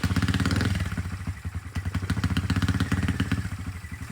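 Cheap dirt bike fitted with a big bore kit fires up and runs, a loud, close, rough single-cylinder putter with rapid rhythmic pulses and some mechanical clatter, revving slightly then settling into a steady idle throughout.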